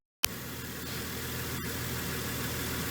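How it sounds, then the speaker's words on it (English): Mercedes engine idling steadily under the hood, a continuous low rumble with a faint fine ticking from the purge valve, fairly close and alone with no talk. "And this ticking little purge valve."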